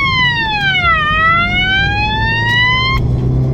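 A loud, close siren sweeps down and then slowly climbs in pitch, wailing continuously over engine rumble.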